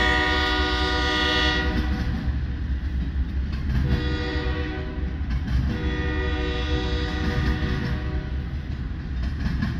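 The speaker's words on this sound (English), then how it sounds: "On a westbound stack train." A long westbound freight stack train rumbles steadily past close by in Fremont, Nebraska, its horn sounding in sustained blasts over the continuous roll of the cars.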